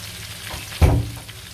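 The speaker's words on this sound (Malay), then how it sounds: "ni saya tumis sehingga naik bau" Bird's eye chilies and garlic stir-fried in a hot pan for a mackerel dish in soybean paste, a loud close sizzle that swells sharply as the ingredients are stirred, then settles back.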